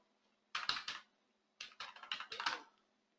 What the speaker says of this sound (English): For that, I'll type Puppet module